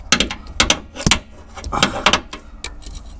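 Ratchet wrench with a deep socket on an oil cooler line of a Toyota 2GR-FE V6 engine: a quick series of sharp metallic clicks and clacks, close and loud, in irregular bursts with no talk.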